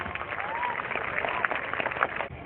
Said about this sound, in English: Once again, a huge round of applause for this performance